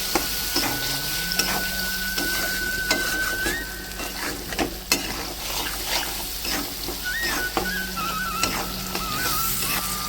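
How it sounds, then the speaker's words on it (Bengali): Spice mix with chopped ginger and green peas being sautéed for a vegetarian paneer dal, a moderate sizzle with repeated stirring scrapes and a faint background tone, close and without speech. "দিয়ে এবার সুন্দর করে কষিয়ে নেবো ওটাকে"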